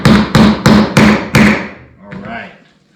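A child strikes a wooden toy fire truck kit with a hammer, five loud, evenly spaced knocks close by, then a softer scrape and faint movement as the blows stop.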